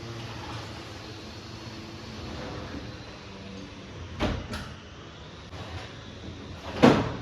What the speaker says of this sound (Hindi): खिड़की बंद की है